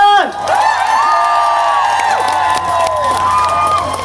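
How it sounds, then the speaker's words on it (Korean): An outdoor crowd at a night-time trot music concert by a lake cheers, shouts and claps after a song, loud and continuous, with high whoops and sustained tones over the audience noise. "일단 박수 한 번!"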